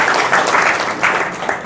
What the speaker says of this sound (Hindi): तो आप पहले तो ताली बजा दो इनकी दोनों की।